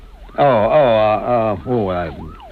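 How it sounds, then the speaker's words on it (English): Wailing ambulance siren sound effect in a radio drama, rising and falling loudly in close, sweeping tones that dominate the short stretch. "That sounds like the ambulance now."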